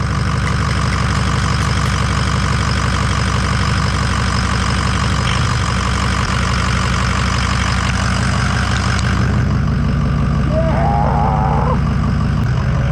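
A 6.0 diesel engine, just started, idles with a steady low rumble and rhythmic knock throughout, holding loud and near with a slight shift in tone toward the end.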